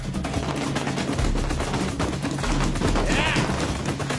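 Pyrotechnic show fireworks launched from a rooftop, a dense rapid crackling barrage of bursts, loud and continuous.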